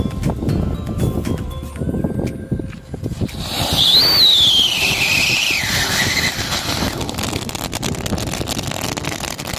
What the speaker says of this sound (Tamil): சக்கரம் அதுவும் விசில் சவுண்டோடய சுத்தும்